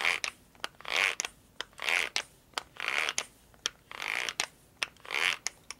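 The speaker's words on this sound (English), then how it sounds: "That's the gear mesh inside the starter." Gear mesh grinding inside the starter motor of a Harley shovelhead with a stroker big bore build, heard up close as a series of rough, whirring bursts repeating about once a second.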